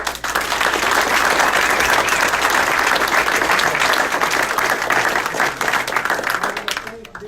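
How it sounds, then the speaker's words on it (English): An audience at a CD22 congressional candidate forum gives the candidates loud, sustained applause. Many hands clap close and fast for about seven seconds before the sound starts to thin near the end. "If we could give them a round of applause."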